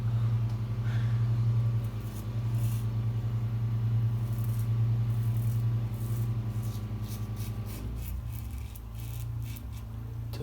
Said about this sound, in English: Doing that fucking jet wash off.